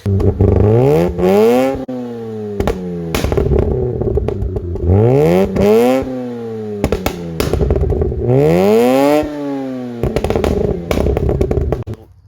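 A tuned Mazda RX-8 rotary engine revs hard in repeated loud bursts, each climbing and falling in pitch, with crackling pops on the overrun between pulls and no one talking.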